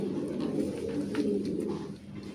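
A pair of white Bombay pigeons coo softly and continuously at a farm, a steady low murmur close to the microphone with no other sounds standing out.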